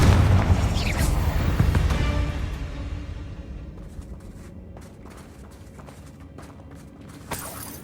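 A Confringo fire spell in the Hogwarts Legacy video game bursts with a loud, deep boom that rolls and rumbles for a few seconds before fading into quieter game ambience, with a small thump near the end.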